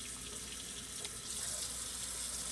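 Tap water running steadily into a kitchen sink while hands are rinsed, a continuous close splashing hiss that grows slightly fuller partway through.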